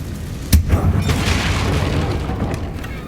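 A Confringo explosion spell from the game Hogwarts Legacy, one loud deep boom that hits sharply and then trails off into a long rumbling tail, with no voices over it.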